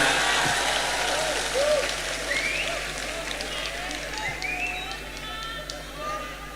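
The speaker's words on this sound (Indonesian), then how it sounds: "Tepuk tangan untuk Indonesia." An audience at a comedy roast claps and cheers in a broad, crackling wash of applause that fades gradually, with a few voices and whistles over it.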